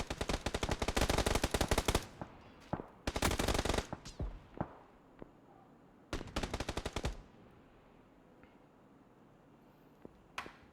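Rapid automatic gunfire in a competitive video game match, several loud bursts of shots separated by pauses, with a few single cracks and quieter stretches between.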